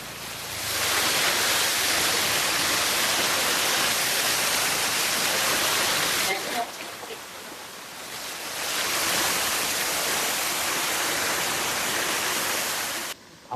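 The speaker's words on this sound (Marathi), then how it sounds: "आवाजावरून तुम्हाला अंदाज येत असेल की पाण्याचा फ्लो किती आहे" Monsoon floodwater rushes under a road bridge in the Konkan region, a loud, steady broadband roar that holds almost unbroken throughout, dipping briefly midway before surging back.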